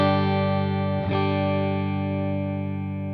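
A distorted electric guitar chord rings out through a Kemper Profiler, one held harmonically rich tone with a small scrape near the start of the second second, slowly decaying and heard alone.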